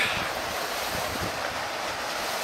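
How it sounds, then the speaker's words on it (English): Water from the natural springs and waterfalls rushes through En Gedi canyon, a hot desert nature reserve near the Dead Sea in Israel, as a steady, dense broadband roar with no voices. "So you can see there's natural springs here and waterfalls."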